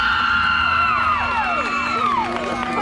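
A convention panel audience cheers and whoops with scattered clapping, a loud, sustained crowd roar of many voices with rising and falling shouts and no speaking over it.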